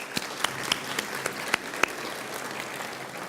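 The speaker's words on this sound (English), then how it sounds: "Could we have one loud round of applause for all the team at LFT" A gala dinner audience gives a round of applause, a moderate, fairly distant patter of clapping with a few sharper individual claps standing out, and no speech over it.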